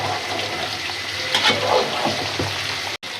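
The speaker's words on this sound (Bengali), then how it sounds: "জল দিয়ে দিলাম" Water splashes and gurgles steadily, like pouring into a pot, with a brief dropout near the end.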